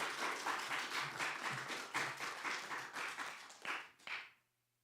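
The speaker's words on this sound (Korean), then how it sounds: "박수로 환영해 주겠습니다." A church congregation applauds to welcome a pastor at an anniversary revival service, a dense, fairly close wash of clapping that swells and then stops abruptly, leaving a faint low hum.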